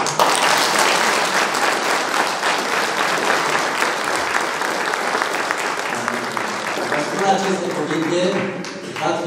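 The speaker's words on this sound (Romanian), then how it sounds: "Aplauze!" An audience at a carol performance by a men's choir in Dofteana claps in a loud, dense, sustained round of applause, thinning out near the end as a voice begins speaking.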